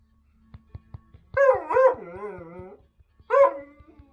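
A dog barks and howls in playful yips, a few quick soft taps followed by two loud drawn-out howling barks, then a short pause and another bark, close by.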